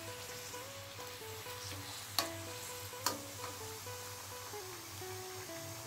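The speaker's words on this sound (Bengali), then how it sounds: "বাকিগুলো এইবার এক এক করে গরম তেলে ভেজে নেব।" Egg chops frying in hot oil, a steady close sizzle with a couple of sharp clinks from a utensil against the pan, no talking.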